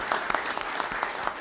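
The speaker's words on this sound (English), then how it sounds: "a round of applause" Press conference audience giving a short round of applause for a newly named research scholar, with individual claps audible in a quick, uneven patter at moderate volume.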